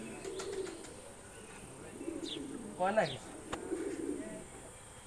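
Expensive pigeons at the Atroshi Darbar shrine in Faridpur give soft, low coos from close by, with a brief chirp, while people talk quietly nearby.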